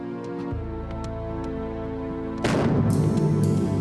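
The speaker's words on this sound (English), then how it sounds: "When the M777 fires, massive forces are generated." An M777 howitzer fires as one sudden loud blast, a booming low crack that swells into a broad roaring rumble and rolls on.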